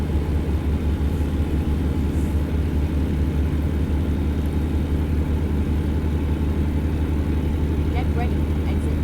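Freightliner truck engine in American Truck Simulator, a deep steady diesel drone and low rumble running throughout at even volume, with faint clicks near the end.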